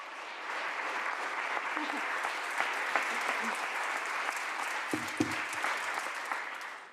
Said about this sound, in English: You applauded